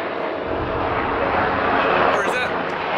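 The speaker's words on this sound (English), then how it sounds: "I hear a helicopter pretty close. I think that's probably a fire helicopter." A fire helicopter, LA County firefighting aircraft, flies close overhead, its engine and rotor noise a steady loud broadband roar that swells slightly and holds throughout.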